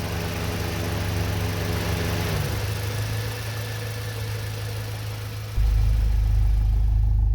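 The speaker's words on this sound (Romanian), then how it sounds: "Se aude un bârâit așa la relanti. Se aude numai în interior." A Honda CRX Civic Del Sol with a B16 engine idles steadily, heard from inside the cabin as a constant low drone with a buzzing rattle; the low hum grows louder near the end.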